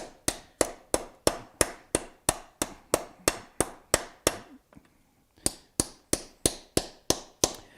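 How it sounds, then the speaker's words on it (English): Sharp, evenly spaced hammer blows drive a piece into a hole in a workshop, about twenty loud metallic strikes in steady rhythm with a brief pause midway. "we're going to hammer this bad boy into here"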